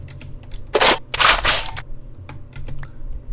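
M1 Garand rifle fire in the Minecraft Crafting Dead game, two loud sharp bursts in quick succession, each with a short tail, followed by fainter clicks and a low steady background hum.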